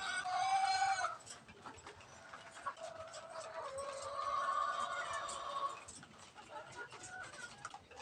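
Crossbred chickens cluck and call in a farm setting, a burst of loud clucking at the start followed by steady, moderately close clucking and squawks that rise again midway.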